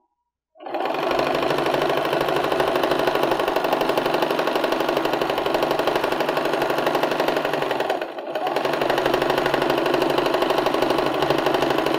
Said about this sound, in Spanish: ahí seguimos cosiendo para bajar